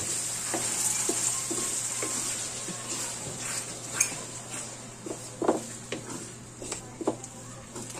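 Laing is stirred in a pot of coconut milk with a soft bubbling simmer, and a spoon scrapes and knocks against the metal in irregular strokes, fairly quiet and close.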